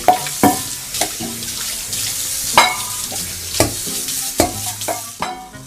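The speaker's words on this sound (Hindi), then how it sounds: "मम्मी आंटी बर्तन धो रही है या फोड़ रही है?" Dishes clanked and banged against each other while being washed at a kitchen sink, sharp metallic clatters repeating every second or so over running water, close and loud with no talking.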